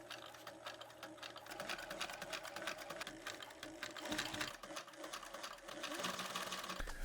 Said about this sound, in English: now it's time to sew